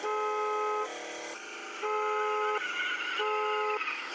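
A car horn in the video game Chicken Gun blares in three long, even, tonal honks with short gaps between them, loud and close.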